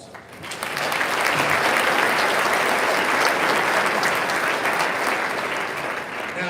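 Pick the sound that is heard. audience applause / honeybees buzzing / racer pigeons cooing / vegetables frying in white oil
audience applause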